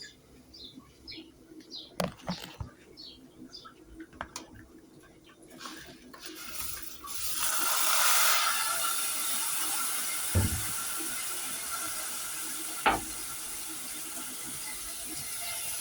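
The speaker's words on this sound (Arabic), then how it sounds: "بعد كده هتحط المية المغلية، ما يعادل برضو 3 كوبايات مية" Boiling water, about three cups, poured into a pot of fried vermicelli and rice gives a steady rushing splash that starts after a few faint knocks and continues loud and unbroken to the end.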